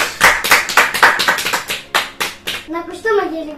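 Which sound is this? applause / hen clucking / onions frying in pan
applause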